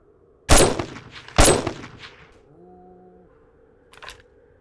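Two loud, sharp gunshots about a second apart in 7 Days to Die, each with a short ringing tail, then a brief tonal hum and a fainter distant crack near the end.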